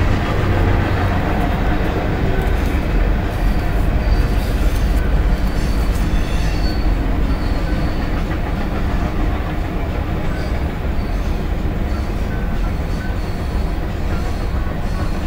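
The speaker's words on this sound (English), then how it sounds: "And the train is going by" A long train passes close by in a steady, loud, continuous rumble of wagons and rails, with faint wheel squeal and clatter running throughout and no talking.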